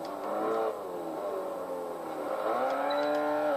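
Volkswagen GTI hatchback cornering in Test Drive Unlimited 2, engine note rising and falling in smooth revving sweeps with a faint tyre whir, fairly loud and without talk.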